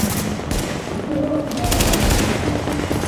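Automated turret gunfire in the video game The Division, dense rapid bursts and continuous loud rattling shots filling the whole stretch, with voices of players faintly under the noise.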